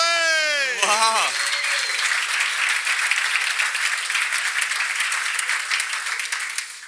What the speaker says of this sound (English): give a huge, round, warm applause for Chris Borbely!